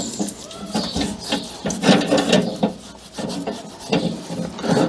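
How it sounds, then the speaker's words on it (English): A towel rubbing oil across a cast iron BBQ griddle, giving a steady rasping, scrubbing friction in repeated strokes, close and fairly loud with no talking. "it will absorb a lot of oil and it will make it easier to rub in the whole griddle"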